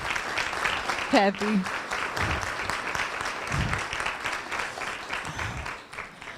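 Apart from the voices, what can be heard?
audience applause for volunteers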